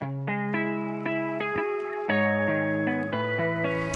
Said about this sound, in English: add some reverb to it.